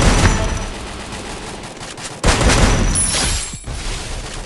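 Gunfire in an online multiplayer shooter game: loud, close volleys of rapid automatic fire, broken by a sharp pause, then resuming.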